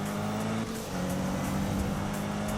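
Race cars roar in Need for Speed 2015, a steady loud engine drone with shifting pitch as the car accelerates, with no voices.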